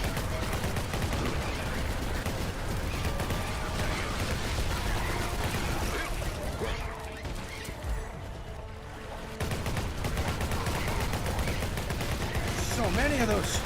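Rapid, sustained gunfire from a Gatling gun in a video game, loud and dense throughout with bursts of explosions and effects, a brief lull near the middle, and a voice talking over the shooting.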